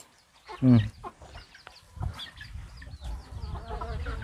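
Farmyard chickens and ducks in a rural setting, a short loud cluck near the start followed by softer scattered clucking and fowl calls, with faint background voices.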